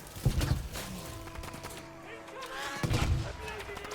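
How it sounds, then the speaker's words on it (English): Two dull, muffled explosions thud about three seconds apart in the video game Battlefield V, with a soft ringing tone and faint background sounds between them. "I like the muted noises of the explosions, with the piano going on in the background"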